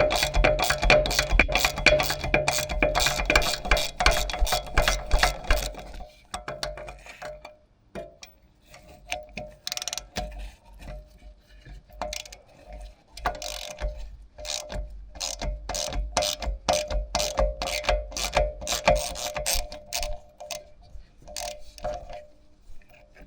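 Ratchet wrench working a bolt loose on a Chrysler Town & Country rear hub, a long run of close, rapid metallic clicks, then a pause and slower, irregular bursts of clicking strokes.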